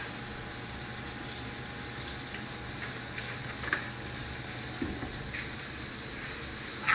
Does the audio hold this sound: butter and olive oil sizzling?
yes